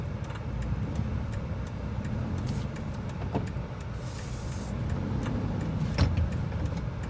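A Hyundai Eon car rolls through a turn, its engine and road noise forming a steady low rumble. Scattered clicks and a brief mechanical whir rise above the drone, and no one speaks.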